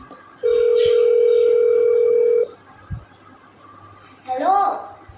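A telephone call goes unanswered: a steady ringback tone sounds for about two seconds, then stops, followed by a short burst of voice near the end.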